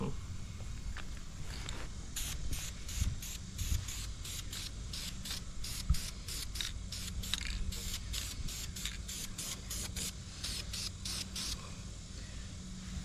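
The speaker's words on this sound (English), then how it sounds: "these ones with these tips, you can turn them and then they spray a different direction" A nozzle sprays in a rapid series of short hissing bursts, evenly spaced, over a low rumbling background.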